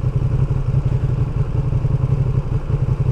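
A 2023 Ducati Panigale V2 engine rumbles loud and close with a steady, throbbing low pulse as the motorcycle pulls away, no voices over it.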